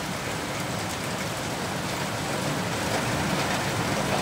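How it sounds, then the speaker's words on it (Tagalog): Heavy rain pours as a dense, even hiss throughout, close and steady with no distinct drops or voices. "Ang lakas ng ulan, no?"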